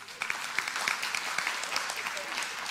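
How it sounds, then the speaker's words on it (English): A church audience claps in a brief, moderately quiet round of applause with scattered individual claps, heard in a reverberant room. "yeah, you can clap"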